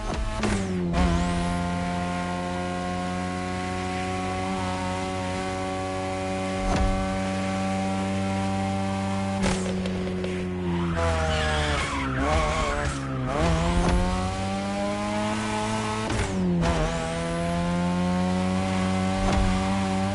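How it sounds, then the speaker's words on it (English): A third-generation 2002 Mazda RX-7 with a rotary engine races in a driving video game, its buzzing engine whine holding steady, then rising and falling through several gear changes, with tire squeal and skids in between. "your ride is a 3rd Gen 2002 Mazda RX-7. Lightweight, compact, a sick rotary engine"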